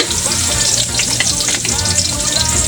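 Ampalaya, shrimp and tofu being stir-fried in a hot pan, giving a continuous loud sizzle with repeated scraping and stirring sounds throughout and no talking.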